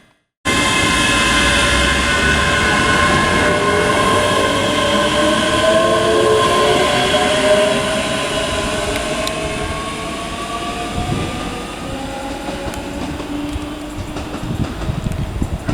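A ScotRail class 385 electric train pulls out of Dunblane station, its motors whining with rising tones as it accelerates, the sound loud and close at first and then gradually easing as the train moves away.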